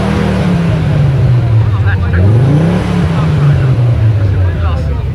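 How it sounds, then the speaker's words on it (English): A classic British Leyland or BMC car engine at a national Mini and Metro show arena, revving loudly and close with a rising and falling pitch swell, over continuous crowd and announcer talk. "Give it another rev. Let's hear it again."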